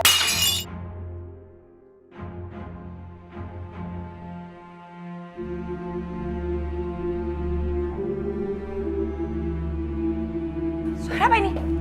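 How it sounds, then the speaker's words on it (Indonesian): A plate is thrown and shatters with a sharp, bright crash near the start, then sustained dramatic music and tense voices follow in a domestic scene. "Tadi piringnya kelempar"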